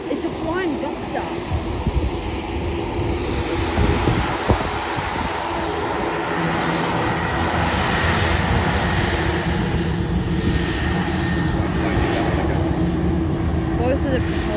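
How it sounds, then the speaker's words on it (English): Royal Flying Doctor Service twin-propeller aircraft, Beechcraft-like, passing at Sydney with a loud, sustained engine drone that swells and holds steady for the whole stretch while people talk over it. "Both of the propellers are spinning."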